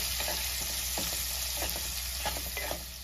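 Powdered spices (turmeric, red chilli, garam masala) stirred through hot oil and onion in a pan for a cauliflower dry sabzi, with a continuous sizzle and repeated spoon scrapes and knocks close up, no voices.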